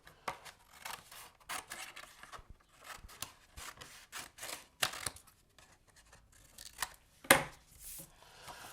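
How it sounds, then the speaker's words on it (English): Scissors snip through paper to form a gluing tab on an asymmetric V-fold pop-up piece, giving a string of quick, close, crisp cuts and rustles with one louder snip near the end. "just cut that into a gluing tab"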